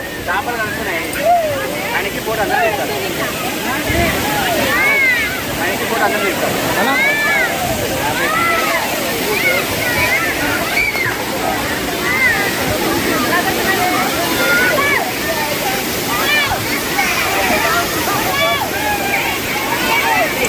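A waterfall's steady roaring rush fills the scene at a tourist spot, with splashing and a babble of many voices from people playing in the water all around.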